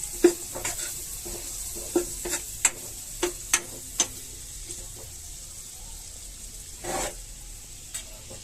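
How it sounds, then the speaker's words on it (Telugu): Onions being stirred in a hot pan while they fry, giving a soft steady sizzle broken by a run of sharp spatula clicks and scrapes against the pan, near and without talk. "ఆనియన్స్ వేసుకొని వాటిని కొంచెం వేడి అయ్యే వరకు కలబెట్టుకోవాలి."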